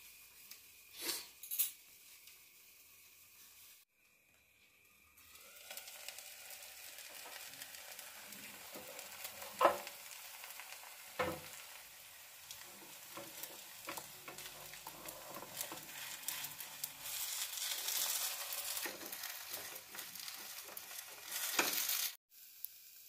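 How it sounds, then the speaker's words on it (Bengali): Moong dal chilla frying in a covered pan gives a quiet, steady sizzle with scattered clicks and pan knocks, growing denser and louder toward the end before cutting off, no speech. "একদিকটা ভাজা হয়ে গেলে আস্তে করে আমি উল্টে দিলাম।"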